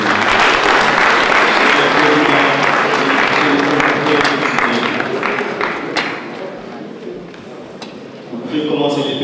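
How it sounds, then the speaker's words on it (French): Applause from an audience at a formal induction ceremony of the JCI U-Cesag chapter in Senegal, dense sustained clapping that thins and fades toward the end, with voices talking over it. "Vous pouvez les applaudir."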